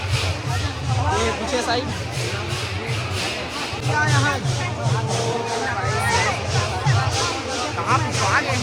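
Dense crowd hubbub at the Hati Rath Yatra festival in a village, many voices blending into a steady, close babble with some nearby speech over the top throughout.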